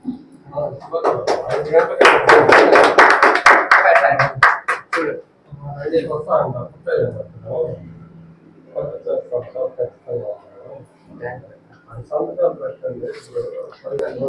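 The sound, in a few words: applause at a party committee meeting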